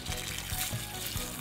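Collected rainwater poured out of a rain gauge onto the ground outdoors: a continuous, fairly loud splashing, gurgling stream for the whole moment.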